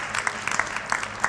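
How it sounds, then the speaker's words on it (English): Applause from a Magic: The Gathering World Championship audience for the tournament winner, a dense patter of many hands clapping at moderate distance, brief and steady, with a voice faintly underneath. "A huge round of applause there for Javier Domínguez."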